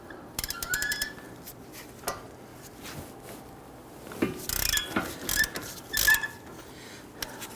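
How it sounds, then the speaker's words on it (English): Ratchet wrench loosening the upper bolt on a Dodge Charger steering knuckle, heard as scattered close metallic clicks and short bursts of ratcheting, growing busier toward the end. "let's go ahead and loosen our upper bolt"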